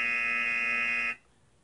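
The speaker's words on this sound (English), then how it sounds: "DNA got some buzzers from me." A single steady electronic buzzer tone, loud and harsh, holds for about a second and then cuts off abruptly into near silence.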